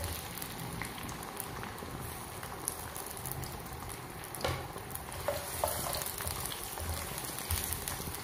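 Sliced onion rings frying in hot oil or ghee in a pan, a steady soft sizzle with crackling pops, faint and continuous with no talk.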